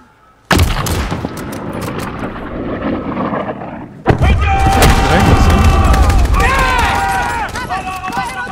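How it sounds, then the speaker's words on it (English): Call of Duty: Modern Warfare combat opens with a sudden loud burst of gunfire that keeps rattling, then a second heavy blast leads into sustained dense firing and booms. Voices shout and talk over the battle. "I've seen the bullets flying out on the other side."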